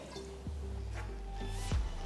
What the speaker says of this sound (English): So I'm just going to add a little water just to get it going.